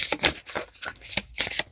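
Tarot cards are shuffled by hand in quick bursts, a crisp riffling flutter repeated about five times over under two seconds, close and clear with no talking.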